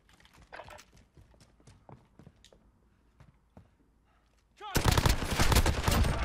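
Gunfire in Call of Duty Modern Warfare: after a stretch of scattered quiet in-game thumps and footsteps, a loud, dense burst of rapid automatic fire erupts and keeps going to the end.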